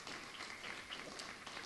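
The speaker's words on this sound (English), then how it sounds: "Please give a good round of applause for our students and faculty members." An audience at a university white coat ceremony applauds for students and faculty, a brief, faint, even patter of clapping heard from a distance.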